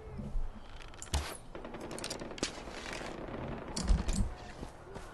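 Scattered gunshots in Far Cry 4 crack out as a few sharp, separate reports over a low rumbling game backdrop, mid-distance and not very loud, with a short cluster near the end.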